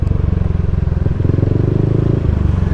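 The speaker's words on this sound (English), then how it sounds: "That guy come right up the side of me on his motorcycle." A motorcycle passes close alongside on a street in Angeles City, Philippines, its engine putting out a loud, rapid, pulsing chug with a brief clattery shift in pitch midway.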